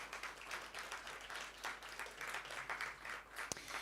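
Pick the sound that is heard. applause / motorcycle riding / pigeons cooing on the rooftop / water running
applause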